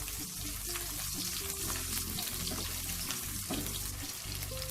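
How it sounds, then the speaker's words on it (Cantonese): Shallots, ginger and garlic slices being stir-fried in a hot wok for quick-fried gizzard, a steady close sizzle with light scraping and stirring, no talk. "先爆一爆呢個紅葱頭、薑同埋蒜片"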